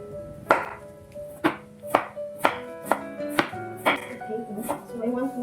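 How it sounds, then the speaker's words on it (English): Vegetables for lumpia chopped on a cutting board, about ten distinct knife strikes in a steady, unhurried rhythm, each with a ringing, slightly metallic knock, close and clear with no voices. "So I already washed the vegetables guys, so we're going to chop this,"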